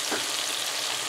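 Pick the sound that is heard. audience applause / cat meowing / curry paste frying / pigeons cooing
curry paste frying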